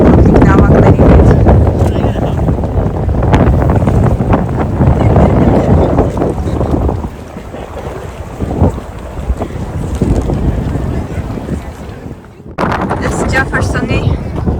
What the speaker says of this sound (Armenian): Եղանակը բավականին քամոտ է, տեսնում եք ծառերից։